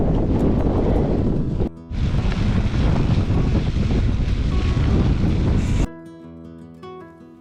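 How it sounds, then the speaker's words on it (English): Strong wind roaring against the microphone outdoors on a winter bikepacking ride, loud and steady buffeting gusts with a brief dip, then cutting to a much quieter tail. "Wind just picked up"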